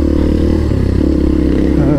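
An enduro motorcycle engine running on a dirt trail, a close, loud low throbbing with rising and falling revs, heard for about two seconds.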